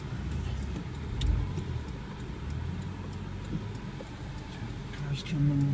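Car passing on the road heard from inside a parked 2001 Nissan Altima, a steady low engine and tyre rumble that swells near the end, with ticking in the background and people talking over it.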